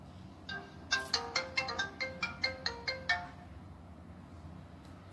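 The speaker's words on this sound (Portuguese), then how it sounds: "Quando liga e desliga, tem esse toque do iPhone." An F18 smartwatch plays an iPhone-style incoming call ringtone: a bright, rapid run of about a dozen chiming tones in a quick melodic pattern, clear and close, then silence.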